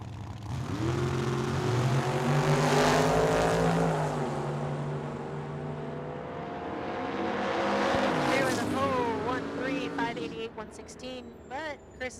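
A Datsun drag car numbered 596 launches down the Tucson Dragway strip, its engine roaring loud and rising in pitch through the gears before fading into the distance. A second burst of revving rises near the end.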